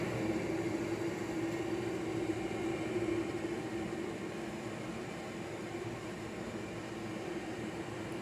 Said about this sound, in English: There goes the magnetron just coming on.